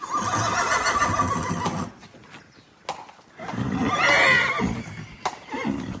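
A stallion crossing a farmyard and cold-blooded draft mares give long, loud whinnies, one then another after a pause, with hoof clops and movement around.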